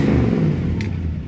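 A 350 small-block V8 with a 307/327 crankshaft and 4-bolt main block runs with a loud, close, rumbling idle and a slight rise in revs.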